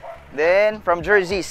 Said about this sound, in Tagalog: Pasensya na kayo sa aso, ha.